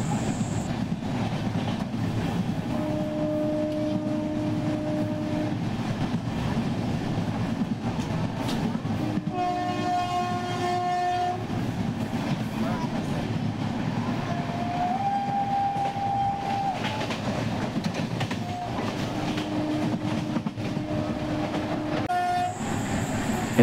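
The 07192 Madurai to Kacheguda Special Express runs through a station without stopping, heard from on board as a loud, steady rumble and rattle of wheels on the rails, with horn blasts sounding along the way.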